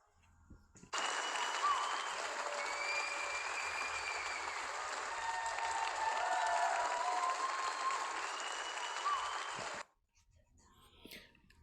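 Audience at an achievement and volunteer appreciation night applauding award winners, a sustained wash of clapping for about nine seconds that cuts off abruptly, leaving quiet room murmur.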